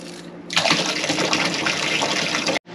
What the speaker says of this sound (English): Joel, this trough needs water.